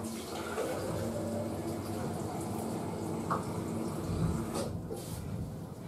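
A kitchen water tap runs steadily while a pot of pinto beans is being prepared, a soft continuous splashing with faint clinks of dishes.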